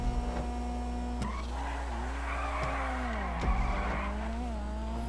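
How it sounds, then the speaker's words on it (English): Dinka Blista car in GTA 5 revving through gear shifts, with a distinctive turbo whoosh and flutter between each shift over a steady engine drone and some tire skid; no talking. "I like the turbo sound on this, though."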